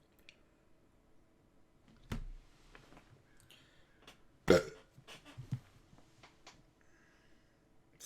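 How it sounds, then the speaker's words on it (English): A single loud burp bursts out midway, with smaller mouth clicks and faint background noises around it in an otherwise quiet room. "That was a really strong burp."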